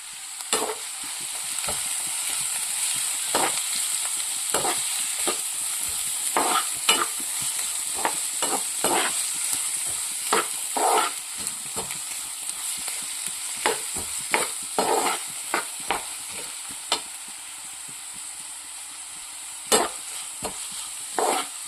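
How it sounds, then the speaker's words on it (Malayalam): Onions sauté in a pan for banana flower oats cutlets with a steady bright sizzle, broken by frequent scraping stirs of a spatula. The sound is close and goes on throughout with no voices. "വഴറ്റി കൊടുക്കുകയാണ്. ഉള്ളിയൊക്കെ ഒന്ന് ട്രാൻസ്ലൂസൻ്റ് ആയിട്ടുണ്ട്."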